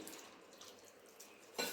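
Room-temperature water poured from a rinsed grinding vessel into lentil flour dough for making sandge, a soft steady trickle that swells into a brief louder splash at the end.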